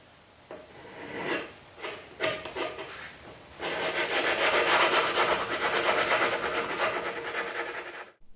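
A wooden dovetail keepsake box gets final shaping with a file and sandpaper. A few separate scraping strokes give way to a continuous, rhythmic rasping close up.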